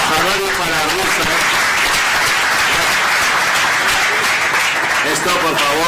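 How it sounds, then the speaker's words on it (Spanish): Audience applause for an ambassador at an indoor event, a dense steady clatter of many hands sustained throughout with voices mixed in. "Un aplauso para el embajador y para Rusan."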